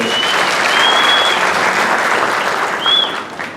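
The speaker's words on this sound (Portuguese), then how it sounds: "Vamos falar de palmas pro João." Audience applause for a speaker at the close of a Portuguese-language talk, a dense burst of clapping close by that holds steady for a few seconds, then thins out near the end with no voices over it.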